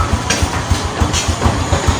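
A motorcycle engine idles low just after being kick-started, giving a loud, steady, rapid chugging pulse of low thumps over a rough mechanical wash.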